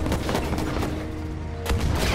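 Gunfire and explosions rattle through a Battlefield V battle on PS4 Pro, loud dense bursts with a heavy low rumble and a sharp blast near the end.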